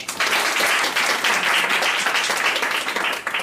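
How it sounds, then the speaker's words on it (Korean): A church congregation claps to welcome a preacher at an overnight semester-opening service, a dense, even burst of applause sustained throughout with no voices on top. "여상기 강도사님 나오셔서 말씀 전하실 때 모두 많은 은혜 받으시며 또 박수로 환영하겠습니다."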